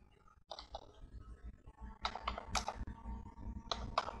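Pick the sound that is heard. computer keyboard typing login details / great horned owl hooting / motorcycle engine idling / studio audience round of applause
computer keyboard typing login details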